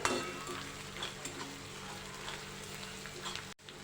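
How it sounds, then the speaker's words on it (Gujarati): Sliced capsicum and finely chopped carrot being sautéed in a hot pan for homemade Manchurian, giving a steady close sizzle with a few soft stirring scrapes, then a brief dropout near the end. "આ કેપ્સિકમની સ્લાઇસ કરેલી લીધી છે અને આ ગાજર ઝીણું સમારેલું લીધેલું છે બરાબર આને સાતોઈ લઈશું"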